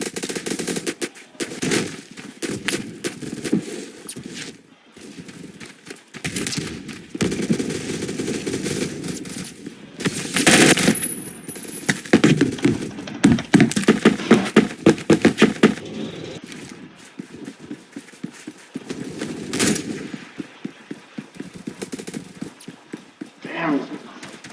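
Rapid bursts of automatic gunfire from the online shooter game Phantom Forces, crackling repeatedly through the round with steady background game noise and a player talking over much of it.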